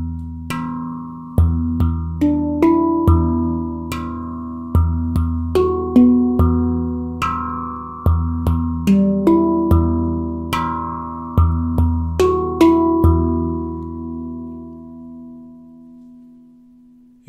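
Handpan struck in a rhythmic composition, a run of ringing metallic notes with steady accented hits, each tone sustaining and overlapping, the final notes left to decay alone.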